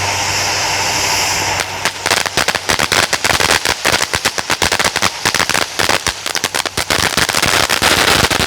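Small consumer fireworks set off outdoors, a loud fuse hiss giving way to a rapid, irregular barrage of sharp crackling pops and bangs that keeps going for several seconds.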